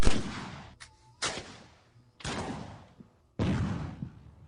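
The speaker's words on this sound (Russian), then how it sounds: "разработчики настолько заморочились, что даже смогли найти оригиналы оружия, которое есть в игре, и на стрельбищах записывали звуки выстрелов для игры" Real weapons recorded for the game GUN fire four sharp, loud gunshots in separate bursts, each followed by a short ringing tail and quiet gaps between.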